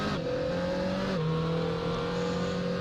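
A Scuderia Glickenhaus SCG 007 with a 7-speed sequential gearbox drives a slow reconnaissance lap on cold tyres in Assetto Corsa, its steady engine drone heard up close with one gear change partway through.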